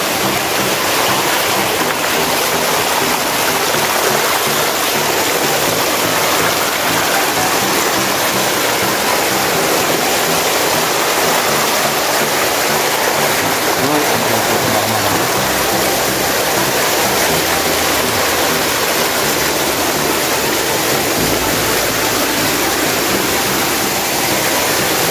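The Tinuyuan Falls waterfall in Abaca, Cauayan roars continuously at close range, a dense, steady rush of falling water with no talk over it.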